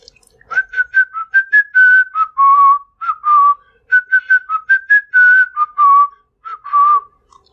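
Someone whistles a lively tune alone, clear and close, in a string of short rising and falling phrases with brief pauses between them.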